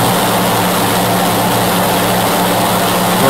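Steady, loud drone of the Convair XC-99's piston propeller engines in X-Plane 11, a continuous broadband roar with a low hum that holds unbroken throughout.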